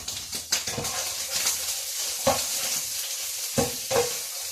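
Paneer with spinach and super green vegetables frying in a pan, stirred with a utensil: a steady close sizzle broken by several scraping stir strokes and soft knocks against the pan, with no voices.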